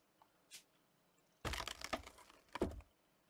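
Crowbar prying in the video game Train Station Renovation gives a burst of cracking, splintering noise with a second sharp crack shortly after, close and fairly loud, preceded by a faint tick.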